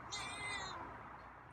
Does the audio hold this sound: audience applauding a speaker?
no